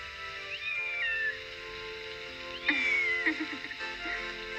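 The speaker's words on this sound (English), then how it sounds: "Beth found a sick kitten on the way home and is doing her best to save it" A sick kitten mews twice, thin high cries over a low steady background hum with no talk.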